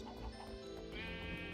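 Sheep bleating in Minecraft inside a farm pen, a steady wavering bleat that runs the whole short moment, close and clear over a faint game background.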